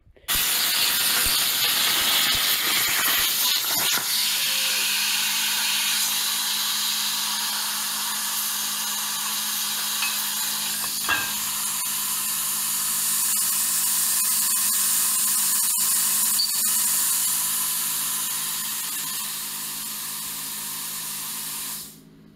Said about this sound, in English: then I wouldn't have had to drill this hole in the top